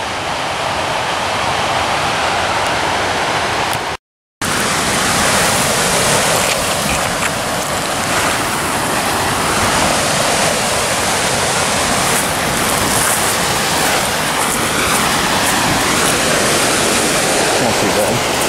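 Rushing mountain stream far below a ridge in the hills above Colorado Springs, a steady broadband roar of moving water that runs continuously and fairly loud, with one very brief dropout early on.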